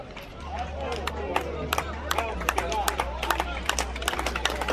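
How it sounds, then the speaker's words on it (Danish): An audience claps at a live Danish crafts show with plastering tools, a steady patter of hands under crowd murmur and a low hum, with sharper individual claps standing out. "Ja, der må klappes. Det er flot."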